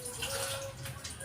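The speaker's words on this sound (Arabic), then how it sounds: "حطيت ميه كمان،" Water pours steadily into a pot of cooking spinach on a stove, a continuous splashing rush at moderate level throughout.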